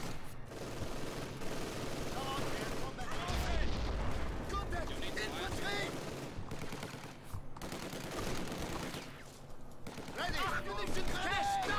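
A German MG machine gun hammers away in Company of Heroes 2 amid a dense battle of rifle fire and booming explosions, loud and continuous, while someone talks over the din.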